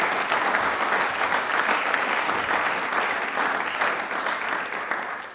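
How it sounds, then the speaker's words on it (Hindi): A studio audience at a televised quiz show applauds, with loud, steady, dense clapping sustained for several seconds and no talk over it. "ताली एक बार जोरदार हो जाएं प्लीज।"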